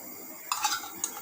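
Ghee spooned onto beef in a pot for Peshawari-style beef, giving a brief scrape and stir with a soft sizzle, two short clinks of a spoon against the pot, close and fairly quiet, with no talk.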